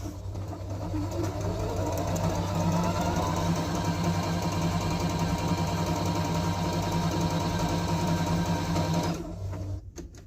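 A Singer Rumina 3000 sewing machine runs an overlock stitch in a steady, continuous, close-up whir with rhythmic needle chatter. It stops about a second before the end.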